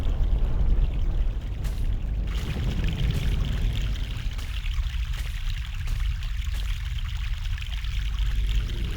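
Water pours steadily in the Mystman video game, a continuous rushing stream that holds an even level for about nine seconds with no voices over it.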